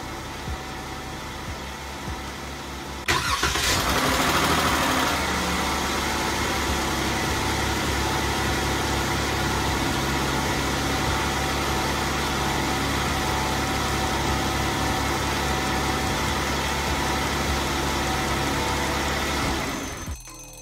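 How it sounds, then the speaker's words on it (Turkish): A Jeep Wrangler engine starts up and runs steadily at idle, a loud continuous rumble with a broad hum that holds evenly for about seventeen seconds before cutting off. "Şu an Jeep Wrangler'a ait olan araba sesini duyuyorsunuz."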